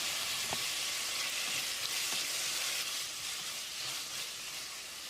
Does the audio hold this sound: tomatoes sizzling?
yes